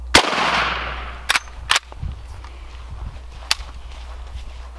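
A single sharp gunshot from a Henry .357 Magnum or .44 Magnum Desert Eagle fired into stacked sheet metal, loud and close with a brief ring, followed by a few sharp clicks or cracks and faint shuffling.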